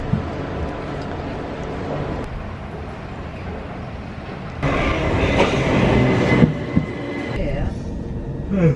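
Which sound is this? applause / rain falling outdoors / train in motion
train in motion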